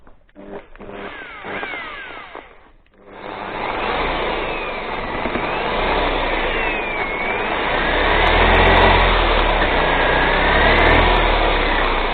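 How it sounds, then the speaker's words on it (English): A buffer wheel polishes a part from a Kawasaki KX60 supermoto rebuild. A few short bursts give way to a loud, continuous motor whine and grinding that holds and swells slightly toward the end. "I'm going to hit it with the buffer wheel quickly"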